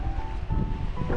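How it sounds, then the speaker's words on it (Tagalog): Strong northeast monsoon wind blows across the coast of Hinapapuan Island in Palawan, a steady, close roar of buffeting gusts over the rush of surf, with no talking. "Mahangin pa rin. So grabe yung amihan ngayon mga master."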